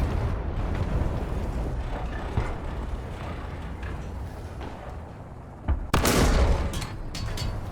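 A tank cannon fires in the War Thunder game with a loud, sharp blast near the end, rising out of a constant low engine rumble and battlefield noise.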